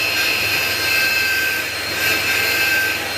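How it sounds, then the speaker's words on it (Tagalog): Butane torch heating the engine case of a Honda PCX160 scooter during a rebuild, a steady roaring hiss with a faint high whistle that holds constant and close for the whole stretch, with no talk. "Pinainit lang butane sa loob ng 15 minutes"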